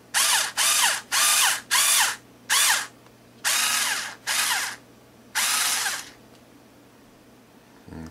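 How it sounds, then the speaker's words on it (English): Electric screwdriver reaming holes in a plastic palm part for an Osprey/Gamma Raptor hand, whirring in eight short close bursts of about half a second to a second each, separated by brief pauses, then quiet. "this one will actually go in an electric screwdriver. So I can do it with that too."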